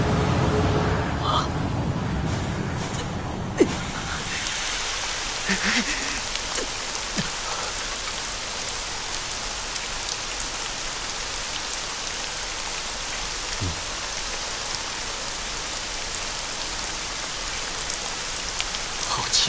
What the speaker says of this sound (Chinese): 怎么下雨了？